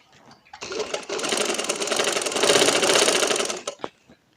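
A sewing machine stitches the folded hem of a baby girl's summer frock. It runs in one steady, fast burst of about three seconds, starting and stopping abruptly, with no talk over it.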